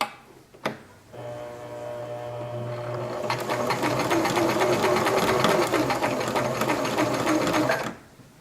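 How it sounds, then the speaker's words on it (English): A sewing machine back stitches a seam in fabric: a click, then a steady close motor whir that rises in pace and runs for several seconds before stopping. "Then at the top of the third edge of fabric, I do another back stitch."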